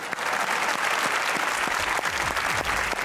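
A studio audience at a comedy talk show applauds, with dense sustained clapping from many hands, loud and steady for the whole stretch, with a faint voice underneath.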